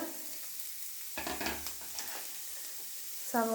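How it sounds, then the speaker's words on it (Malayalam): Chopped onions fry in hot oil in a pan, a brief hissing sizzle broken by a few scraping stirs near the mic, with no speech. "അപ്പോൾ നമുക്ക് സവോള നന്നായിട്ട് വഴന്ന് വഴന്ന് വരുന്നോടം വരെ നന്നായിട്ട് നമുക്ക് ഇളക്കി കൊടുത്തോണ്ടിരിക്കാം"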